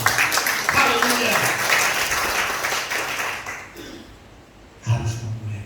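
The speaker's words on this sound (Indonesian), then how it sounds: "Tepuk tangan buat Tuhan Yesus." A church congregation claps for Jesus during worship, a loud burst of many hands under an energetic voice that fades out midway, then a brief renewed flurry near the end.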